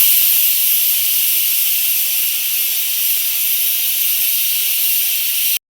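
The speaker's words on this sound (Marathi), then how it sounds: "इथं आता कुकर लावलाय भाताचा." A pressure cooker on rice lets out a loud, continuous, close hiss of steam that stays steady throughout and cuts off abruptly at the end, with no talking.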